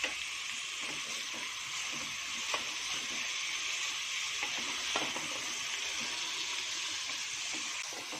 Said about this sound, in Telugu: ఇలా ముక్కని ఆయిల్లో వేసుకున్న తర్వాత స్టవ్ సిమ్లో ఉంచుకొని ప్లేట్ పెట్టుకొని ఒక 5 నిమిషాలు మగ్గనివ్వాలి